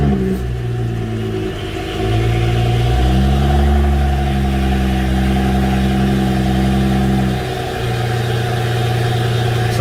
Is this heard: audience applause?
no